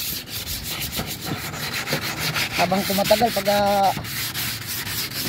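Repeated rasping strokes of sandpaper rubbing by hand against rusty metal, close and rhythmic, with a voice speaking briefly over the scraping.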